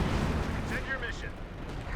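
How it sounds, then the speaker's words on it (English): Artillery fire in a Company of Heroes 2 4v4 match on the Nordwind map, with deep booming rumbles and distant blasts layered under an excited commentator talking over the action. "He now, has artillery going mid?"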